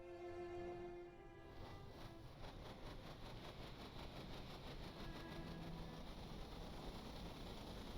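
A boat engine in a sandbox vessel-building game spools up to get underway, a steady mid-low mechanical drone with pulsing churn that holds even and continuous after a brief tonal start.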